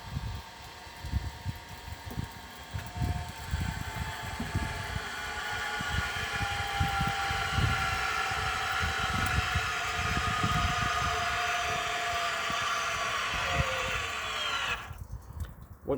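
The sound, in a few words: caravan motor movers whirring as they engage the wheel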